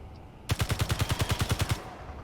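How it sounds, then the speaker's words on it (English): A burst of rapid automatic gunfire in the video game The Capac Chronicles, about a dozen evenly spaced, punchy shots in quick succession, close and loud, then a sudden stop back to a quiet hum. "The constant little bits of gunfire are kind of cool in a weird way"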